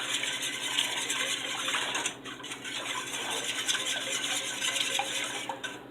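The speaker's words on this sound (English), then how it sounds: "Whisk them clumps out of there real good." A whisk clinks and scrapes steadily against a pot while working flour clumps out of a seafood bisque, a continuous busy metallic stirring close by with no talk.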